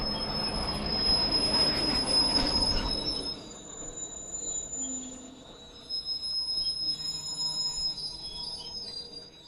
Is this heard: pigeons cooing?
no